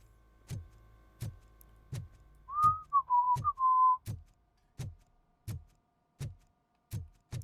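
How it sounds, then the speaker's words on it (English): RoboCop whistles a short wavering tune in the video game RoboCop: Rogue City, clear and close, set against a steady, evenly spaced ticking that runs throughout. "Can RoboCop whistle?"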